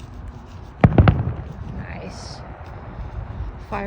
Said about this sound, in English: Fireworks after a long day